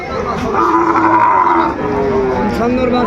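A Sahiwal cow moos loudly and close by at a cattle market in Dinajpur, a long low bellow with a second call overlapping, amid farmyard background noise.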